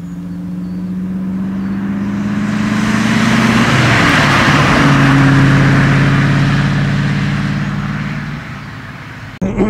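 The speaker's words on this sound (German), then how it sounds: "Das ist ja eine 8-Zylinder-Maschine, ein Aluminiumblock mit 140 PS." A 1959 BMW 503 Cabriolet Series II with a 140 hp aluminium-block V8 runs steadily and close by. Its engine note rises and then settles in a smooth, sustained hum that lasts nearly ten seconds, and no voices are heard over it.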